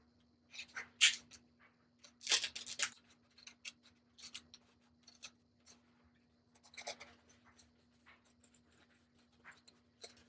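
Scrapbook.com hinge scissors snip through paper for card making, a run of quiet, irregular close cuts and rustles of varying strength.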